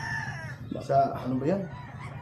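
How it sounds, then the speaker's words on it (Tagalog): A farm rooster being collected for shipping lets out one clear crow over a low engine hum, with a voice speaking nearby. "dito na yung manok mo"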